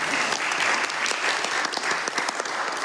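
A church congregation claps during a sermon, a steady, fairly close burst of many hands clapping that lasts a few seconds without speech over it.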